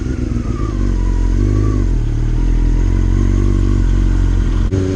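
A Yamaha R6 motorcycle built to Moto2 spec being ridden, its engine droning loud and steady for several seconds with a slight rise in pitch and wind rush, no voices.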